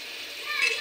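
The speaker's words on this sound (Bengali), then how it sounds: "জলটা মিশিয়ে নেই সয়াবিন আলুর সঙ্গে।" Water stirred into a soybean and potato curry in a pan gives a short, steady, close hissing sizzle with a slight swell near the end, and no talk.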